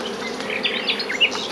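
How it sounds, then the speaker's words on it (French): Honey bees buzz in a dense, continuous drone at an open beehive, individual bees whining close by. "Je vois beaucoup d'abeilles"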